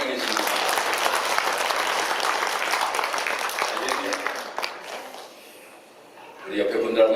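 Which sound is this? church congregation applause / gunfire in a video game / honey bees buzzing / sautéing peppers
church congregation applause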